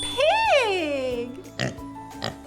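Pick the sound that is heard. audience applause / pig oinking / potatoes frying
pig oinking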